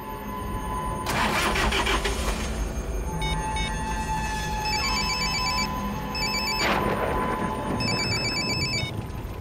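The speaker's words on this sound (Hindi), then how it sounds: "रमेश फोन क्यों उठा रहा?" An electronic phone ringtone chirps in short repeated bursts and goes unanswered inside a TV crime drama scene, layered over a rumbling car engine and broad background noise.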